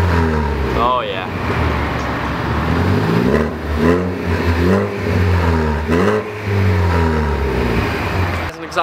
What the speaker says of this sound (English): Exhaust tone now, it's kind of weird, and that's only 3K.